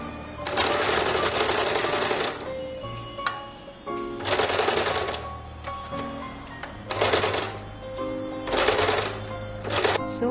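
A sewing machine stitches along neckline edges, running in several whirring, rapid-clicking bursts of a couple of seconds each, separated by short pauses, close and steady, with no talk.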